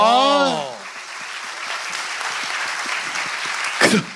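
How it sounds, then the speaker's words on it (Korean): A brief voice opens, then an audience breaks into applause, a moderate patter of clapping that holds steady until a short sharp clatter near the end. "박수 한번 주세요."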